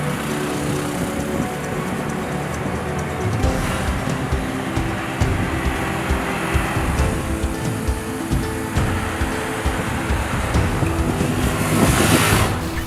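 A Suzuki Gixxer 150 motorcycle ridden on the road, its engine droning steadily and loudly throughout with heavy wind buffeting the microphone and brief swells of revving.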